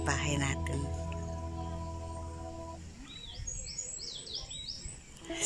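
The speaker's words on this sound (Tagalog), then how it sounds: "Marinig mo'y hunin ng ibon." Several quick, high chirping bird calls in the later part of the clip at a hillside campsite in Tanay, Rizal, following a stretch of steady tonal hum and some background noise.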